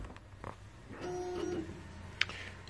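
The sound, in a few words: CakePro direct-to-food printer loading up for a print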